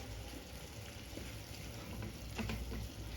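Paneer curry with coriander leaves being stirred in a pan, a quiet bed of soft sizzling with a few faint scraping stirs near the end, no talking.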